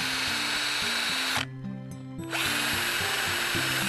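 A power drill boring holes into a pool's return water line whirs loudly, stops for about a second, then whines again at full speed.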